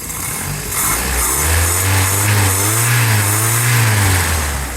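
A 1980 Toyota dually truck's engine revs up from idle, a loud close mid-pitched growl rising and falling in pitch over several seconds with no talking.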